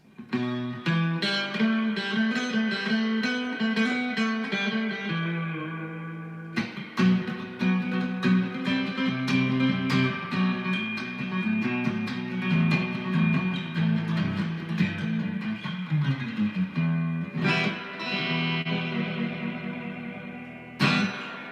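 A Surfcaster electric guitar with its reverb cranked up plays a twangy surf-style melody with heavy, splashy reverb, ringing steadily with no one talking.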